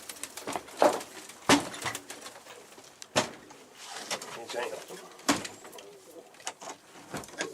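Pigeons coo and flap near a chicken coop on a rainy day, soft rolling calls and wingbeats scattered among sharp nearby clatters, with someone talking over them.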